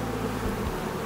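Honeybees buzz loudly and continuously around an opened hive in an apiary, a close, droning hum with layered wingbeat tones and no speech over it.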